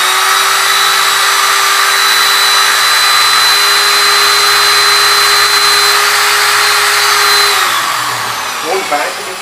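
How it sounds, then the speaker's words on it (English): A power drill boring into a piece of wood held in a jig: a loud, steady high motor whine throughout that drops in pitch near the end as it winds down, close up with no talk. "start the drill."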